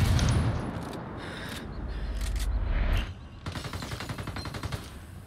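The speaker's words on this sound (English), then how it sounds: "A lot of fire over here." Heavy gunfire in the shooter game Ghost War: dense volleys of shots, then a rapid machine-gun-like rattle of evenly spaced bursts, loud and close, over constant battle noise.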